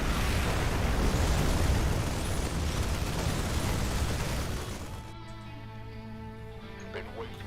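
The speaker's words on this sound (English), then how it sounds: "All those explosions." Loud, dense explosions from the video game StarCraft II roar continuously through the first five seconds, then give way to quieter game sounds with scattered smaller bursts.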